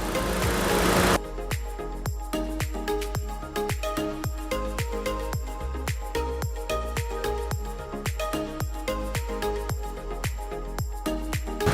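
A 2019 Suzuki Swift 1.2 GL running, a steady rapid mechanical ticking pulse repeating evenly throughout, close and continuous after a brief burst of noise at the start.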